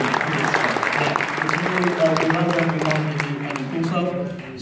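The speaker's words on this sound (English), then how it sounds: "So give them an applause, Derek." An audience at a gaming event applauds the sponsoring organizations, steady clapping that runs the whole stretch while voices murmur and talk over it.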